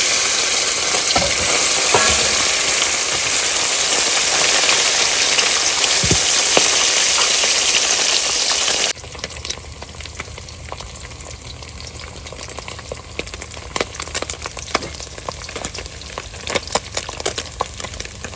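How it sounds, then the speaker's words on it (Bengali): Loud, dense sizzling of food in hot oil that abruptly drops to a quieter, sputtering crackle about halfway through. "মাছ ভাজা কিন্তু হয়ে গেছে প্রথমবারে মাছগুলো তুলে নি"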